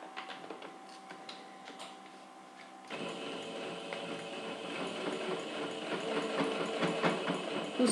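Sewing machine stitching a denim crossbody bag: soft rapid mechanical clatter that grows busier and a bit louder midway, running steadily and fairly faint up close, with no talking.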